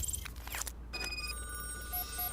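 An electronic telephone ring in the RoboCop: Rogue City video game, repeated chirping tones with a steady low hum underneath and a brief clatter at the start.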